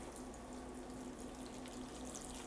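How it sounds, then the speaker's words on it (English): Dechlorinated water pours steadily from a jug into a container for a springtail culture, a continuous close splashing trickle that runs the whole time with no talking. "So we're gonna keep pouring this in"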